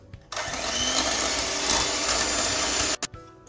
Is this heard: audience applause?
no